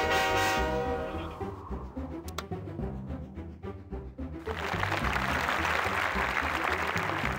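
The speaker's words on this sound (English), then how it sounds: "Blow the locomotive's whistle to scare the deer off the track." A locomotive whistle blows in the 3D Ultra Lionel Train Town video game, a tonal toot under a rumbling train, then a loud rushing wash of noise.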